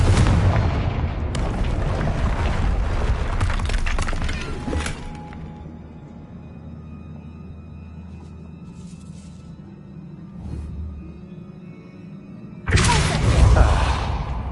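Confringo blast spell fired in a Harry Potter video game: a loud, booming explosion with rumbling debris that fades into quiet ambience, followed by a second sharp burst near the end.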